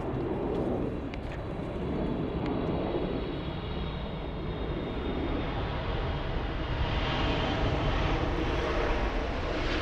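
A Singapore airliner arriving from Tokyo touches down at Los Angeles International Airport, its engines producing a loud continuous roar and rush that hold steady, then swell slightly toward the end.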